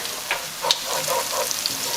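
Onions sauté in a pan for lemon pepper spaghetti, a steady close sizzle with soft crackles and a few scraping stirs, no voices.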